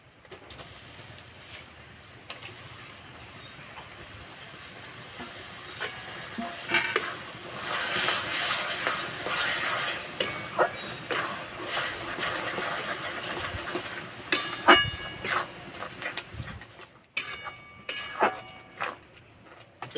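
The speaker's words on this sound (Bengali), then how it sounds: "গুড় ফুটে গেছে, এবার ভেজে রাখা কুমড়োটা দিয়ে দেবো।" Fried ash gourd is stirred through boiling jaggery in a pan, with steady bubbling sizzle and scraping stir strokes that build in the middle and carry on with occasional clanks against the pan.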